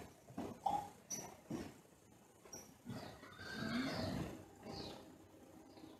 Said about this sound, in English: You can hear all the horses in the back.